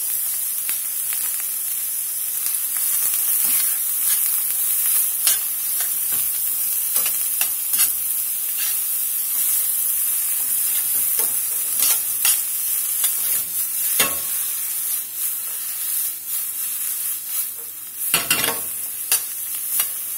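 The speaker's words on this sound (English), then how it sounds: "We're going to let these cook here over about a medium-low heat till they sweeten up pretty good." Filling for French dip sliders, seasoned with salt and pepper, sizzles steadily in a pan over medium-low heat, with a continuous close frying hiss broken by occasional stirring scrapes and clacks.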